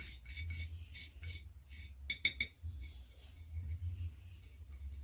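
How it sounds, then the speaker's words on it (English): A palette knife mixing pigment into paint on a slab, a close series of scraping rasps and short clinks with quiet pauses between strokes and a busier burst in the middle. "What I like to do when I make paints is just mix it up first with the palette knife and then go in with the Muller"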